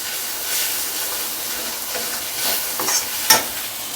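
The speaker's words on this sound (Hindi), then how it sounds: "टमाटर को इसी में मिक्स कर देंगे।" Tomatoes stirred and cooked in a pan over medium heat give a loud, steady sizzle and hiss, with scraping strokes of stirring and a sharper clack near the end, and no voices.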